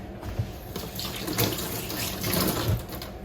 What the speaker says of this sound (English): I'm just gonna give my hands a quick little rinse here.